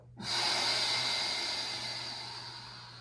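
Deep yogic breath during a core yoga session, heard as one long, close, airy exhale that starts suddenly after a brief silence and slowly fades, alone without talk.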